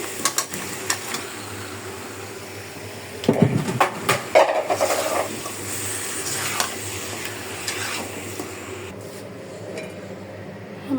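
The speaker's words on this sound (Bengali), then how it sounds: "একটু মশলাটা কষাই আমি মাংসটা দিতেছি" Meat being stirred and fried in a thick spice masala in a pan, a low, steady sizzle with repeated scraping strokes and a bunch of busier stirring clatter around the middle, with no talking.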